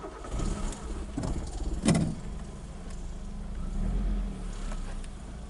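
A Nissan Primera engine starts after a little difficulty and then idles, with a low steady rumble that swells slightly as the revs rise, close and with no talking.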